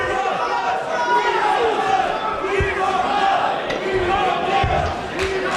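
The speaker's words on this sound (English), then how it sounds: "The crowd chanting, "We want blood."" A wrestling crowd at an indoor show chants loudly and rhythmically, a dense massed roar of voices with scattered thuds.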